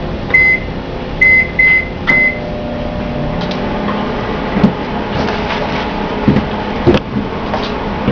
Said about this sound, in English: I'm going to put this in the microwave for about a minute